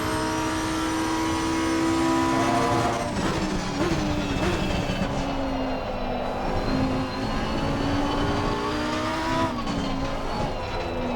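A race car engine in Assetto Corsa Competizione at Silverstone, with the back end sliding: a loud, continuous high-revving drone that rises and falls through gear changes.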